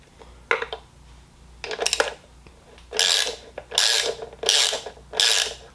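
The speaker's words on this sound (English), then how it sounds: "I don't want to tighten it up too much" Parts that mount the headlight on a 2026 Harley-Davidson Street Bob are tightened with a ratcheting hand tool. A few short rattling clicks come first, then four loud, close ratchet bursts follow at a steady rhythm, with no talk.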